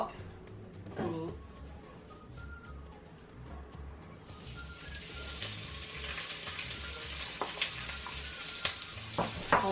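Onion stir-fries in hot vegetable oil, a quiet stretch that suddenly bursts into loud, crackling sizzle midway, with scattered clicks of stirring; someone talks briefly near the start.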